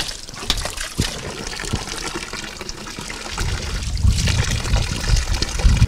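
Spring water flows and gushes steadily close by, a continuous splashing rush that swells louder toward the end, with no voices.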